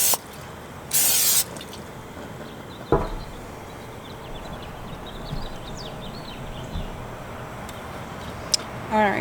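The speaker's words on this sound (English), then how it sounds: "Spray all our chicken." A short, sharp burst of cooking spray hisses close by onto chicken wings outdoors, with a couple of thuds and faint dripping and outdoor ambience afterward.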